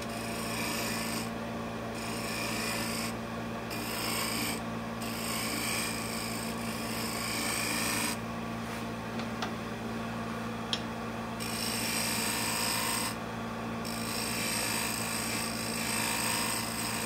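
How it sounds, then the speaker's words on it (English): A steady scraping rasp from a shear scraper working an ash wooden bowl with olive-toned wood, continuous and fairly close, with brief lighter pauses and no talk. "now I can shear scrape"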